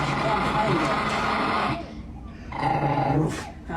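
Dog growling and grumbling loudly and close up in short bursts, with a brief pause in the middle before the growl resumes.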